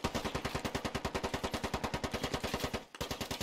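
Rapid sustained automatic gunfire in the military shooter game Squad, a steady fast stream of shots with a brief break before firing resumes, loud and dense with no voices.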